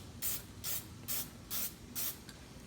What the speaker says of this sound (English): we want to shake that aerosol thoroughly, shake it for a couple of minutes, and then when we apply it, we want to use dry misting coats.